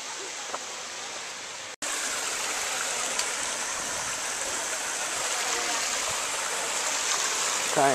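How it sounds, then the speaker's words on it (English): A waterfall and creek flow steadily nearby, giving a constant full rushing wash of water that continues without a break after a brief cut near the start. "this is the fall. Little creek going into the distance."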